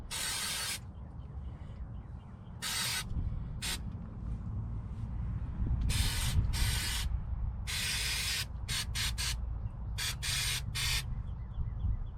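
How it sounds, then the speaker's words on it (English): Brake cleaner sprayed around the driver-side CV axle area of a 2011 Nissan Altima 2.5 SL: a series of sharp, hissing aerosol bursts, some long and some short, close to the microphone. "grab a little more brake clean real quick to clean up this one other area"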